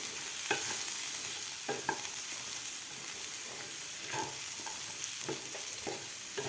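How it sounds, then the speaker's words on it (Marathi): Cowpea pods fry in a spicy masala, giving a soft, steady sizzle punctuated by repeated scraping and tapping of a spatula stirring the pan, fairly quiet and with no talk. "आता आपल्याला ह्या मसाल्यामध्ये शेंग व्यवस्थित एक दोन मिनिट व्यवस्थित फ्राय करून घ्यायचे आहे"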